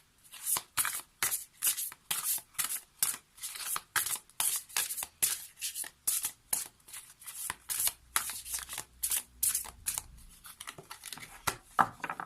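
Oracle cards of the water spirits being shuffled by hand, a quick run of crisp papery riffles and slaps in a steady rhythm, close and fairly soft, with no talking.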